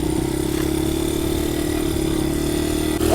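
A dirt bike engine runs steadily in first gear, a loud, close, continuous low mechanical drone with a faint rise at the very end.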